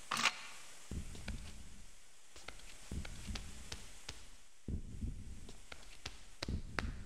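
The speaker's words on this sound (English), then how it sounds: "I hear a heart beating." A heartbeat in the video game The Suffering thumps slowly in a steady lub-dub rhythm, soft and low, with faint clicks and an eerie quiet background around it.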